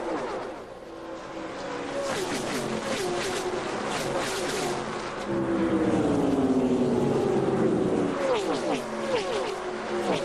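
NASCAR Busch Series stock cars roar loudly around a wide oval at the Napa Auto Parts 300, several engines overlapping and shifting pitch as they pass, with a faint commentator voice beneath.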